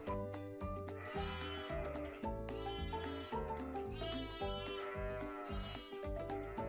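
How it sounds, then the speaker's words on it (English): Repeated sheep bleats from a farm flock, a steady run of wavering calls layered over continuous busy background sound, fairly loud and close, with no speech. "I hear a sheep."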